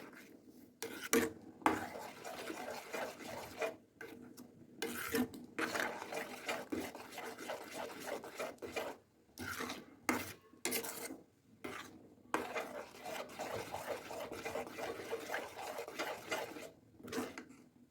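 A spoon scrapes and stirs in a pan as jaggery melts for a rava sajjaka sweet, producing soft, irregular rasping strokes in bursts with brief quiet gaps, close and fairly faint.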